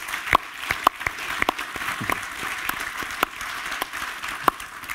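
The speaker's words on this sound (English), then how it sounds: "Ladies and gentlemen, a big round of applause." A conference audience at a forum stage gives a round of applause, a thinner spread of individual claps with distinct sharp hand strikes standing out irregularly over a soft background.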